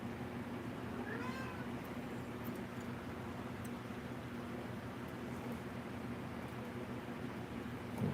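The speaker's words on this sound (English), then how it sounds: "What are you guys meowing at me for?" A couple of faint cat meows rise over a steady background hum and hiss, with occasional small ticks.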